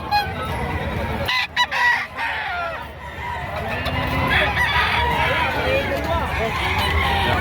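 A rooster crows amid a busy outdoor chicken market in Batangas, with other fowl calling and people talking in the background.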